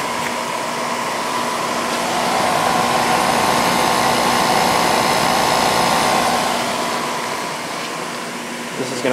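An Idylis 12,000 BTU portable air conditioner runs with no exhaust hose fitted, giving a steady close fan roar with a constant low hum that swells slightly midway and eases near the end.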